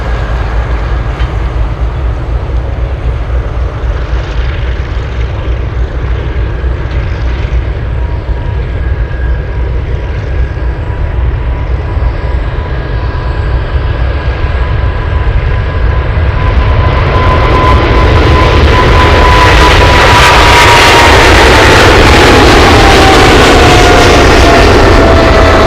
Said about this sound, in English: Let's go to the China Southern 777. Couple of GE90s at full power.